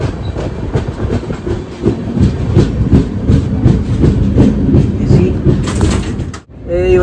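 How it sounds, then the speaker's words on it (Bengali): A train rolls along with a steady, loud, close rumble and rhythmic wheel clatter that continues for several seconds before cutting off sharply near the end. "আর এই হচ্ছে দেখতে পাচ্ছ তোমরা ট্রেন"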